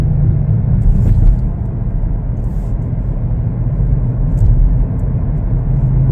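A 2021 Chevrolet Blazer LT on a test drive, heard as a steady low engine and road rumble from inside the cabin, smooth and constant with faint light knocks.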